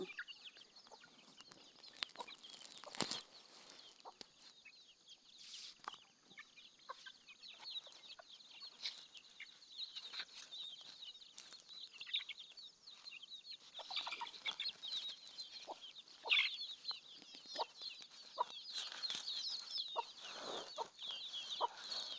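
Backyard chickens on a home poultry farm cluck in scattered bursts, soft and somewhat distant, the calls overlapping steadily throughout with no voices.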